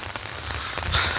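Heavy rain falling steadily in a village, a soft continuous patter of drops on surfaces, close and fairly faint, with no voices.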